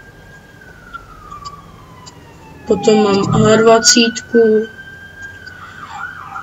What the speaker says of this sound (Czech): teď tady jede sanitka, takže možná to uslyšíte